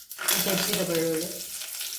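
Crushed garlic drops into hot oil already holding mustard seeds, cumin and asafoetida for dal, setting off a sudden loud sizzle that settles into a steady crackling fry.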